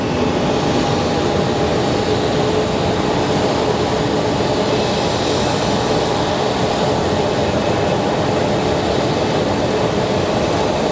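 An Embraer jet arriving at Phoenix Sky Harbor airport sends a steady, loud broadband roar across the whole stretch, with faint tonal whine threads running through it and no speech on top.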